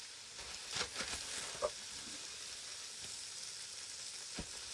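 Steaks frying in a pan with garlic, a quiet steady sizzle with a few soft clinks and scrapes, faint and continuous.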